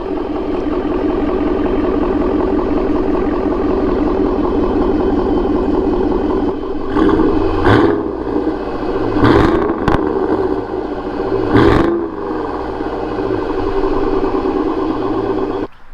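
The naturally aspirated 6.2 liter V8 of a Ford Raptor with a full Corsa exhaust idles with a deep, steady rumble, then revs sharply three times in quick bursts before settling back to idle.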